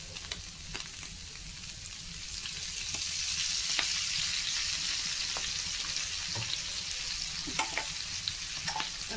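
Figs and potatoes sautéing in oil in a pan for a rural Bengali curry, a steady close sizzle with occasional scraping stirs and clicks throughout, no voices.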